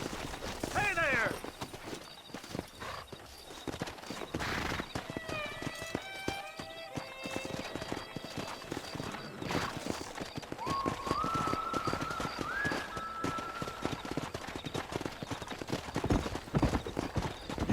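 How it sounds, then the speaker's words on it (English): Hooves clip-clop steadily as wild horses gallop in Red Dead Redemption, with several whinnies and neighs rising over the hoofbeats, plus some wind and game-like ambience. "there's a pack of wild horses nearby"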